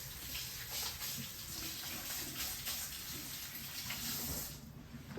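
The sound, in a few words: running tap water, rinsing hands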